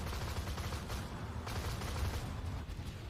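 Rapid, continuous autocannon fire in the tank game Armored Warfare. A dense, sustained barrage of bursts runs through the whole clip at steady loudness, with no talk.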